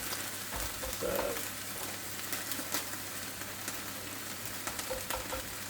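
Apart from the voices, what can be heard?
onions frying in a pan on gas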